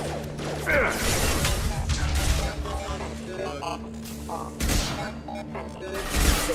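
Gunfire and mechanical clanks during Mass Effect 2 combat against a robotic enemy, with bursts of shots and metallic impacts mixed with a steady game hum, plus spoken synthetic system announcements.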